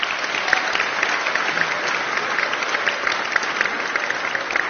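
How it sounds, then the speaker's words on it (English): A school assembly crowd applauding, a dense steady round of clapping held at an even level from start to finish. "Can we give them one more round of applause?"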